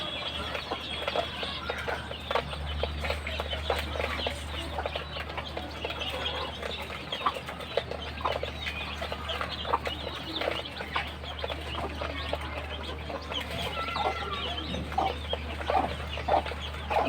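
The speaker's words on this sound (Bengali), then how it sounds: "যে আরেক মুরগির বাচ্চা এসে পড়ছে একটা।" Chicks around twenty days old clucking and peeping steadily after brooding, a busy chorus of small calls with occasional wing flaps, close and continuous with no talk.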